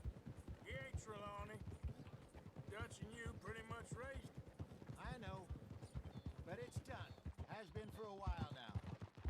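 Horse hooves clop at a steady, rhythmic pace in Red Dead Redemption, sitting under near-constant talking from a person throughout.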